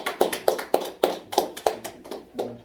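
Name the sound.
congregation applauding in church service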